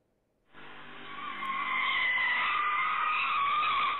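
Brakes screech as a car skids on a road in Thailand, caught by a security camera: a sudden loud, sustained tire squeal that sets in after a quiet moment and holds steady before cutting off.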